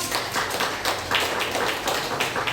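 A church congregation applauding together, a dense steady patter of many hands clapping, close and continuous with no voices over it.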